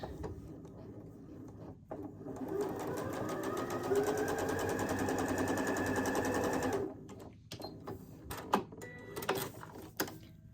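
A sewing machine runs steadily for about seven seconds, stitching down the stretchy bias edges of a Civil War–style Texas Tears quilt, then stops, followed by a few scattered handling clicks and taps nearby.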